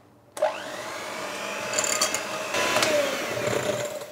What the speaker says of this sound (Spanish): Añadimos también el azúcar y ahora vamos a batir durante unos 7 u 8 minutos hasta que esté bien espumoso y firme